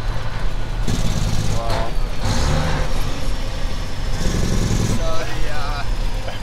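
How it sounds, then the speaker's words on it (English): A 1997 Kenworth T800 semi truck with a CAT 3406E engine rattles loudly from inside the cab as the jake brake bursts in rough, pulsing stretches, with brief remarks from occupants over the engine noise. "The constant jake braking is so funny."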